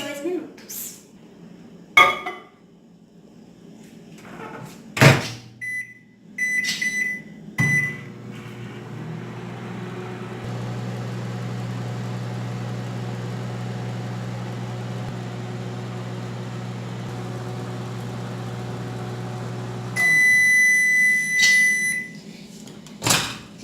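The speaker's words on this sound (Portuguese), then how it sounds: "E agora colocar no micro-ondas por 2 minutos." A microwave oven hums steadily while cooking a mug pudding, preceded by clinks of a glass mug and the door shutting, and ending with beeps and the door opening.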